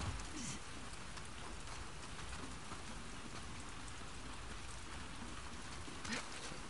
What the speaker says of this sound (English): All this rain and water.